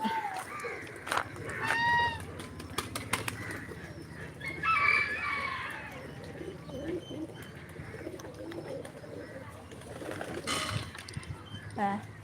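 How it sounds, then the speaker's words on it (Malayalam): Fancy chickens cluck and call in short bursts near and far among other birds, while people talk and laugh over them. "കോഴി കോഴി"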